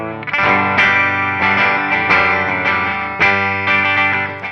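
Rare 1975 Gibson Les Paul Deluxe Sparkle Top electric guitar on the bridge pickup, played through chorus and distortion effects: ringing strummed chords and picked notes, loud and close, with no talking.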